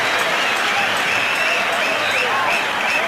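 Cricket stadium crowd during a tense run chase, a dense continuous wash of applause and buzzing voices, loud and steady throughout with whistles rising above the roar.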